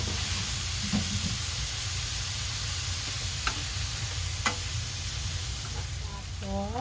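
Seafood sizzles steadily in a frying pan with garlic, a loud continuous hiss close up, broken by a few light clicks of stirring against the pan.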